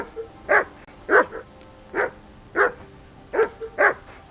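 Six sharp, close barks from a dog in Kingdom Come: Deliverance II, spaced about half a second apart with the last two coming in quick succession, heard alone over a quiet backdrop.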